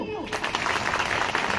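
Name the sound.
audience applause at political rally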